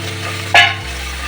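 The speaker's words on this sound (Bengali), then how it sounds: "এবারে আমি এই চালটাকে এর মধ্যে দিয়ে একটু নেড়ে নেব।" Rice is stirred into a hot pan with cashews and raisins, giving one short, loud scraping stir over a steady low sizzle, with a constant background hum.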